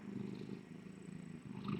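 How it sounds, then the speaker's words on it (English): A mother cat purrs steadily up close while giving birth to kittens, a low continuous rumbling that swells slightly near the end, with no talking. "what you're hearing is Tip purring"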